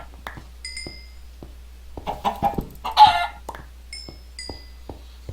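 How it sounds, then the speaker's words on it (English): Chickens in the video game Minecraft cluck in short, separate bursts, fairly close and clear against a quiet background. "And look at all these chickens."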